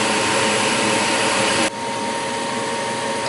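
A gas furnace running with its inducer motor: a loud, steady whooshing hum that changes tone partway through as the burners light.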